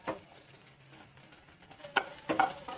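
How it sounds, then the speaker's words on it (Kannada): Okra (bhindi) frying in a pan, with a soft sizzle under a few scraping stirs of a spatula near the end, heard close and fairly quiet with no talking. "ಈ ಬಾಣಲಿಗೆ ಹಾಕ್ಕೊಂಡು ಚೆನ್ನಾಗಿ ಹುರ್ಕೋಬೇಕು."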